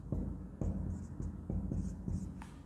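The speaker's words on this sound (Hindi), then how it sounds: "यहाँ लिखते हैं 1500 रुपये" Pen writing an amount by hand on paper during an accounting journal lesson: soft, close scratchy strokes in a quick irregular rhythm, several short bursts with brief pauses, no talk.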